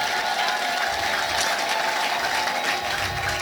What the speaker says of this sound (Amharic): ለጌታ እልልታ ጭብጨባ